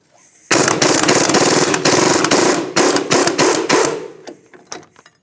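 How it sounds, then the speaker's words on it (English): A 21mm socket and 18mm wrench work loose the axle mounting bolts on a 2001-2007 Volvo V70 XC, giving loud close bursts of rapid ratcheting and metallic clatter in several spurts before trailing off into lighter taps. "And then we're going to remove our two mounting bolts, and that's a 21mm socket and an 18mm wrench."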